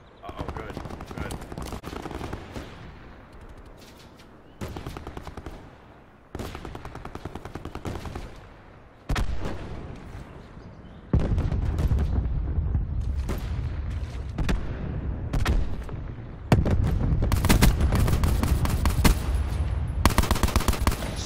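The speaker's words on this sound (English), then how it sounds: "It's a light machine gun, but it shoots like a sniper rifle." Light machine gun gunfire in the Call of Duty Black Ops 4 video game, loud repeated bursts of rapid shots separated by short pauses, growing heavier and more booming toward the end, with occasional game sounds mixed in.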